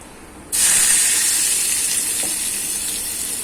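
A loud, steady sizzle of onions dropped into hot oil after mustard seeds crackled, starting abruptly after a brief quiet moment and continuing as a bright, even hiss.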